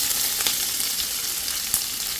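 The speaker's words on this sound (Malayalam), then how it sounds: "ഇപ്പോൾ പാനിൽ എണ്ണ നന്നായിട്ട് ചൂടായിട്ടുണ്ട്. ഇതിനകത്തേക്ക് 3 സവോള ചെറുതായിട്ട് അരിഞ്ഞ് ചേർക്കാം." Chopped onions sizzle and crackle in hot oil in a pan, a dense continuous frying hiss with a few sharper pops, close and steady with no voices.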